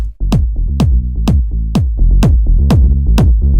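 Minimal house kick drum and bass playing dry without saturation: eight punchy kicks on a steady beat, each with a sharp click and booming low tail, over a rolling bassline.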